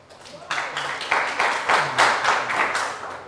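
School audience applauding Ntare School at a secondary schools quiz challenge, a burst of many hands clapping that swells in and holds steady with rhythmic peaks, fairly close and loud, with faint voices beneath.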